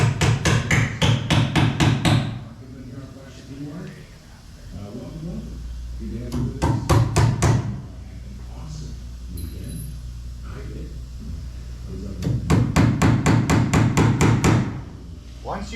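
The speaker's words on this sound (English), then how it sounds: "Don't hammer the nails all the way in because you are going to want to pull them out afterwards." Rapid bursts of hammer taps drive nails partway to tack expansion strips in place, coming in three quick rhythmic runs of about a dozen strikes each, with a person talking in the gaps between them.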